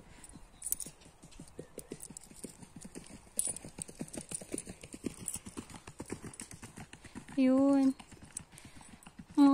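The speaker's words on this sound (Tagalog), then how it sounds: "There's a horse, guys." A horse walks along a forest path in Brierley Forest, UK, its hooves clip-clopping in a steady rhythm close by while someone talks over it; a short whinny-like tonal burst rises near the end.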